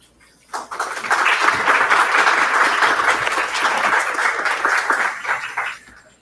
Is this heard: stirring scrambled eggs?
no